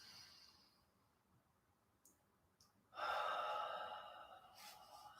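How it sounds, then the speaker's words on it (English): A deep, loud inhale during a morning yoga breathing practice draws in sharply after a few quiet breath noises, then trails off into a softer exhale. "One more big inhale."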